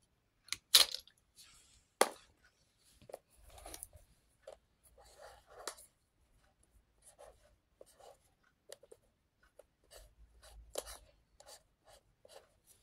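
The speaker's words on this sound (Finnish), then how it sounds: "Mä piirrän nyt violetilla vaikka tohon kissan." Purple marker pen squeaking and scratching on paper while a cat is drawn, close up; a series of short, irregular strokes of varying loudness, with faint quiet stretches between them.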